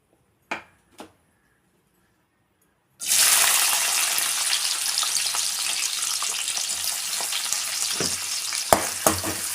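Onion dropped into hot oil for a Chettinad mutton vathakal, a couple of pan knocks in near silence and then a sudden loud burst of sizzling that holds steady, with a few stirring clatters near the end.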